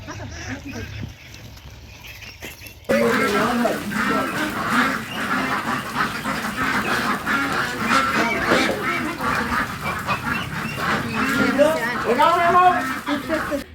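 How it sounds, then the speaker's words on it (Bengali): A crowd of ducks on a duck farm quacks and chatters continuously at moderate distance, with people talking over the birds throughout. "সুন্দর লাগতেছে না হাঁস? দেখছো কতগুলান হাঁস?"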